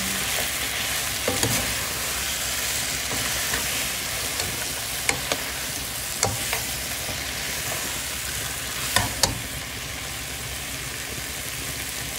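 A Filipino mung bean dish with nori cubes and crushed pepper is stirred in a pot, giving a continuous soft sizzle and bubbling with a few scattered spoon clinks and scrapes.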